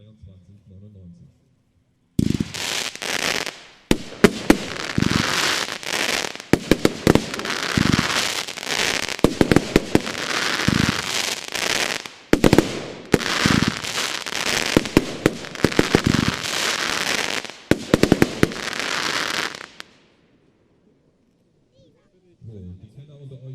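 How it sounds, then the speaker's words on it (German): Krawall 25 mm cake battery of 36 shots with a double fountain base, firing a long rapid run of sharp cracking bangs at a fireworks demo, loud and dense, ending abruptly, with brief talk before and after. "Weiter mit der Nummer 53, der Krawall, 25 mm, Becherbatterie, 36 Schuss"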